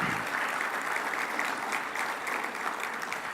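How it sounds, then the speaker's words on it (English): A room full of meeting attendees claps steadily for the planning committee volunteers at an association's annual meeting, a dense, even wash of applause held at moderate level throughout. "Let's give these folks a round of applause."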